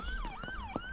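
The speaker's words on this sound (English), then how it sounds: "I think there's a pursuit going on, because all I can hear is sirens." An emergency vehicle siren in a video game, a brief wailing tone that rises and falls, sounding at a moderate distance.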